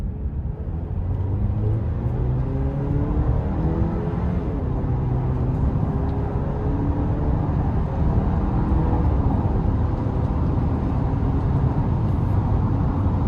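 A 2026 Chevy Traverse Z71 AWD accelerating hard, heard from inside the cabin: a steady, loud engine rumble with revs climbing through the pull over a constant drone of road and wind noise.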